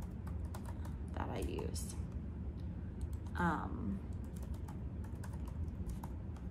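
Keys click in quick irregular bursts as a password goes in on a new M1 MacBook Pro 16-inch keyboard, close and soft, with a person speaking over part of the typing.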